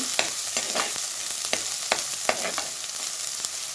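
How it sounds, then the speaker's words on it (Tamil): Dried prawns frying with onion in a pan, stirred until brown: a continuous loud sizzle with repeated sharp spatula scrapes and clicks at a steady rhythm, close up. "ப்ரௌன் கலர் வர வரைக்கும் வதக்கணும்"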